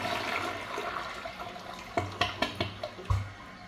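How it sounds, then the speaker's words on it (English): A Proflo Edgehill residential toilet runs an extended flush with the handle held down. Water rushes and gurgles steadily, then a series of sharp knocking clunks comes from the tank mechanism, all close by. "The extended flush doesn't really do much, as you saw there."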